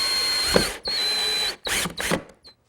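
A power drill drives 2.5 inch screws into an Adirondack loveseat frame, giving two or three loud whirring bursts with short pauses between them, close up and with no voices.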